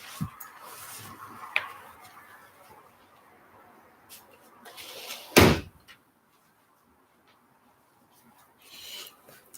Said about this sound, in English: Have to close that door.